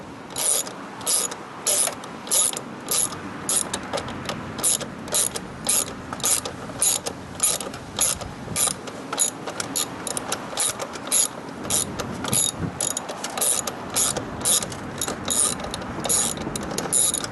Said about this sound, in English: you go with the other one, and you keep unscrewing the bolt